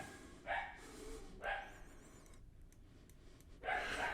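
A dog barks three times in short, separate bursts, the last one loudest, somewhere indoors with faint room noise between the barks.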